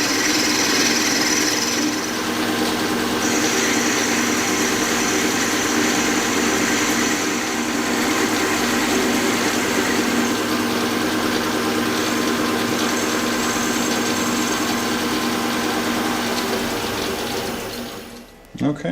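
A lathe with an offcenter chuck takes a heavy cut on a crank pin, giving a loud, steady machining drone with a grinding, buzzing edge that holds nearly constant before cutting off abruptly at the end.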